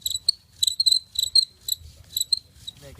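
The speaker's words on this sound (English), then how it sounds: "Where's that cricket?" Cricket chirping in short rhythmic bursts, close and fairly loud, with a bow drill being used for fire by friction on cottonwood wood nearby.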